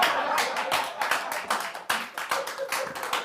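A comedy show audience applauds in a dense, close run of clapping that stays fairly even and then tails off slightly.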